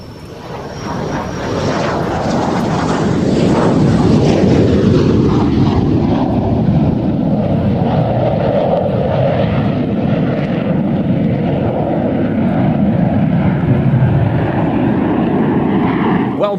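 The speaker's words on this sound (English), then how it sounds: "The RAF, they had so many wonderful aircraft, and we're going to see another one in just a moment from the same air show." A Royal Air Force aircraft at an air show flies past with a loud, continuous engine roar that swells in the first seconds and holds steady, the pitch sliding downward as it passes.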